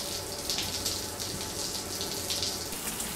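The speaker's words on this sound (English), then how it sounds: "Time to shower and see if we get more." Shower water runs steadily in Death Stranding, a constant hiss and splash that stays even and moderately loud throughout, with no voices over it.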